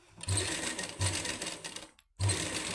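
A sewing machine stitches fabric for a simple women's suit: a steady, close mechanical whir runs in three stretches with brief stops between them, and no one speaks.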